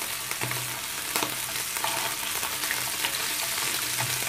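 Sheep tail fat fries in a pan with a little oil, making a constant dense sizzle with faint crackles and light stirring knocks throughout, with no speech.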